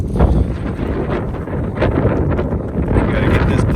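Strong wind buffets a boat on a cool morning, roaring steadily and loudly across the microphone with gusty rushing and no break.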